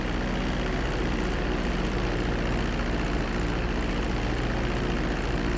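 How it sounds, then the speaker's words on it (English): Steady, loud engine drone of an airplane landing on a runway in the video game GTA 5, a continuous broadband roar with no breaks. "Now let's get the plane off the run. Come to a complete stop."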